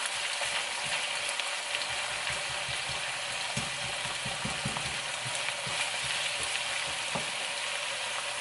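Garlic, ginger and green onion stir-frying in oil in a pan beside browned meat, a steady close sizzle with soft scraping stirs throughout, no voices.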